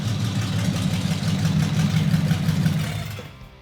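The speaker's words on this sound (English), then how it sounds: "That's the reason I chose this engine from the start, because of the sound." A custom car engine with dual carburetors idles steadily with a deep, lumpy low rumble, loud and close, fading off at the very end.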